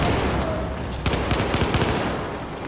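Rapid bursts of automatic gunfire in the video game Battlefield 4, a dense rattle of shots through the middle of the clip over constant background game noise.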